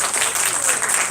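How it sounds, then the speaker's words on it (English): An audience at a film festival screening claps together in a dense, even burst of applause lasting about a second. "Let's give them a round of applause once again,"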